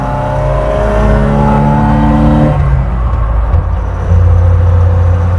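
A red-top Opel Manta B2 16v accelerating hard on a road, a loud engine note climbing steadily through the revs, then the pitch drops as it shifts and settles into a lower drone; no talking.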